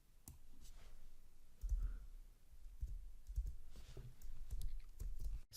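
Typing on a computer keyboard while entering PyQt6 code: faint, scattered soft key clicks in an irregular rhythm, recorded close but quiet.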